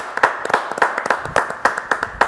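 A small audience clapping for a singer and magician, with sparse, uneven handclaps arriving in a loose rhythm rather than a full roar and close enough that individual claps stand out.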